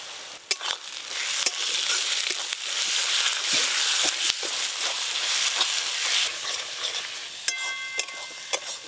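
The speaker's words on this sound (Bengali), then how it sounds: "খাসি মাংস রান্নার জন্য মশলা বেশ ভালো করে কষে নিয়েছি, একদম লাল লাল করে মশলা কষেছি" Spice paste for mutton curry fries in a pan with a continuous close hiss and sizzle, broken by sharp scrapes and taps of a stirring spoon, with no voices.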